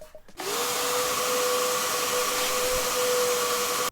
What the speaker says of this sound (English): Gotta sand it, gotta hit it with that 150.